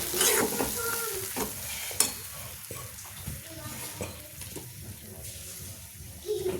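Ground tomato paste fries in a pan for a quick home chicken lunch, giving a steady soft sizzle with stirring scrapes and a sharp clink of a utensil against the pan near two seconds.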